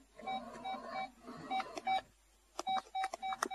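A series of short electronic telephone dialing beeps in a Polish radio play, in uneven clusters with several tones repeated quickly, close and fairly quiet.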